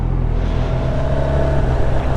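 A 2016 Suzuki GSX-R750 motorcycle engine revs high on a ride along greasy, frozen roads, a loud, sustained engine roar with heavy wind noise that holds steady throughout.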